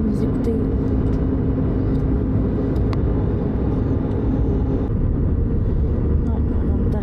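Airplane cabin just after landing in Montreal, a steady loud low rumble of engines and airflow throughout with no clear breaks.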